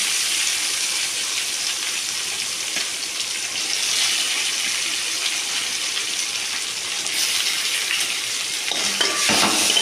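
Sliced onions sauté in a pan for chutney, giving a steady, close frying sizzle with a broadband hiss throughout, a spoon stirring now and then and a brief louder scrape near the end; no talking.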